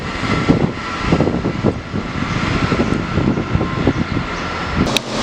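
A Transport for Wales class 158 diesel unit, 158839, runs at Chester station on a service to Birmingham International, giving a loud, steady engine rumble with a broad rushing noise throughout and a brief high squeal near the end.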